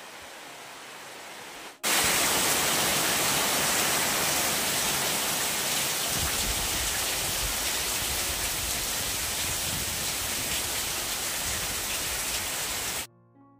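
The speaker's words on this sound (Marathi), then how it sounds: "हा बघा पाऊस बघा सुरू झाला ना." Heavy rain begins abruptly and pours down as a loud, dense, continuous hiss, steady for about ten seconds before cutting off.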